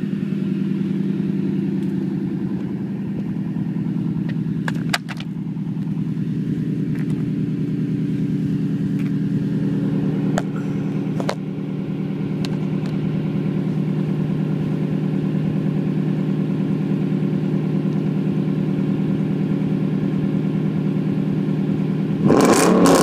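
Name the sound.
pickup truck engine idling and revving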